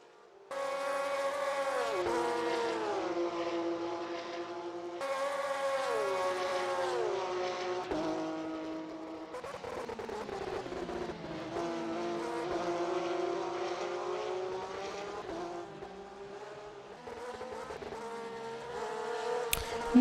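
Porsche race cars roar around the Indianapolis race track, high-revving engines rising and falling in pitch as cars pass one after another, loud and continuous with gear-shift steps.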